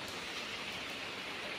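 Steady rain pours down in a rural outdoor setting, a dense, continuous hiss of drops striking surfaces, close and even throughout with no voices.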